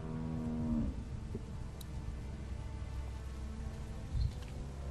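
A cow lows in The Walking Dead video game, with a long, low, sustained moo up close at the start, then a quieter stretch of ambient game sound with a brief thump near the end.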